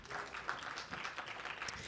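A live film-club audience applauds a projectionist, steady mid-distance clapping from many hands that stays even throughout without voices on top.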